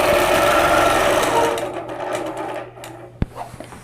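A sewing machine stitches a block quilt with a loud, steady, close whirring hum that fades out midway, followed by a few faint clicks and a sharp knock.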